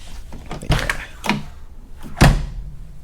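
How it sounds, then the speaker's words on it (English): A Toyota AE86 car door, fitted with heavy-duty aftermarket hinges, shuts with a few light knocks and then a solid low thud close to the microphone, with no talking. "the door should close by itself"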